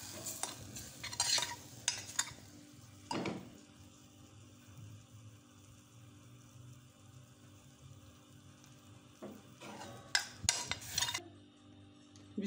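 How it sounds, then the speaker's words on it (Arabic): A spoon stirs flour into melted butter in a saucepan, with scraping bursts at the start and end and a soft low sizzle between them. "بعد ما خلطت الدقيق مع الزبدة"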